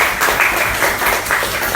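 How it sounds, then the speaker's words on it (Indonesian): Students in a mathematics class applaud, producing a steady, close wash of clapping hands that fills the short moment with no pauses. "Tepuk tangan untuk kita semua."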